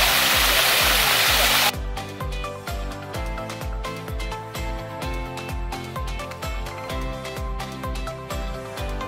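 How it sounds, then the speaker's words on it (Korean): A waterfall in the Blue Mountains, Australia, gives a loud, dense rush of falling water for under two seconds. Rhythmic, beat-driven music then takes over for the rest of the clip. "물소리 한번 들어보세요. 물소리."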